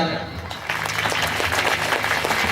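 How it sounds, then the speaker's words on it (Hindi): Loud applause from a seated audience at a poetry recital, starting after a brief spoken lead-in and continuing as a steady, dense wash of clapping with some voices under it. "जोरदार ताली है।"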